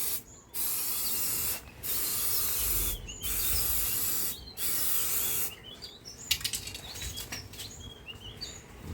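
Spray can laying a heavy coat of clear coat onto a car headlight, in four sustained hissing bursts of about a second each separated by short gaps, followed by fainter rattling and handling noises.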